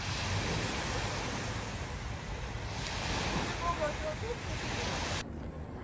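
Black Sea waves wash steadily against the shore beside seaside restaurants in Batumi, Georgia, a continuous rushing surf roughened by wind buffeting the microphone.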